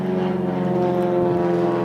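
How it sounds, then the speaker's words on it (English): A Stinson propeller airplane drones steadily as it passes at an airport, its engine and propeller giving a strong, continuous buzz with a pitch that shifts slightly near the end. "Sorry about the airplane noise in the background,"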